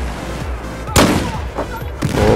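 Gunfire in Battlefield 4, with a sharp nearby shot and a couple of further bursts over a low game background hum.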